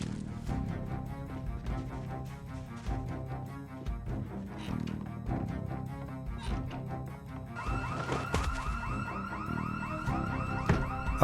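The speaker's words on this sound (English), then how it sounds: "A house alarm was echoing through the street too" A house alarm rings steadily in Project Zomboid, a loud repeating electronic tone that holds over ongoing game background sound for the whole stretch and grows stronger near the end.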